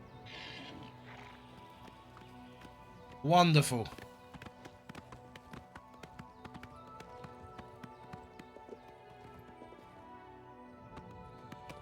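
A horse in the Oblivion video game gives a short, loud whinny, with light hoof clip-clops spread through the scene; a voice speaks briefly over it.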